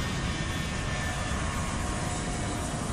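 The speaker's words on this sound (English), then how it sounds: "With just 5 minutes to spare, they're given clearance for takeoff." Air Force One jet airplane on its takeoff run, a loud, dense and continuous roar of jet engines with steady rumble and hiss, heard from close by and without talk.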